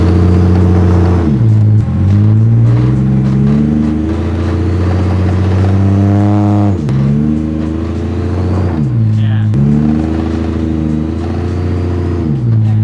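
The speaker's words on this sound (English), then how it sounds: "we're just going to give a little test out now, see if we can get 4 wheels spinning" A turbo Barra-engined Toyota Land Cruiser 80 series revs hard while its wheels spin. The engine pitch rises and drops repeatedly through several loud, sustained runs close to the listener.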